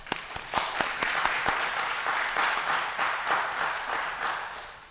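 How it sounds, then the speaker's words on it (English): Applause for safety ambassadors at a Pittsburgh City Council meeting, with distinct individual hand claps from a modest group in a room, fairly even and moderately loud, tapering slightly toward the end. "So that deserves a hand clap"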